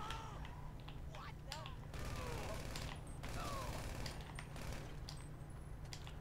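Gunfire in a heist video game, bursts of rapid shots and metallic clicks and clinks, with a player talking over it.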